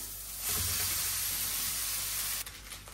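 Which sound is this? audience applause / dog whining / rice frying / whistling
rice frying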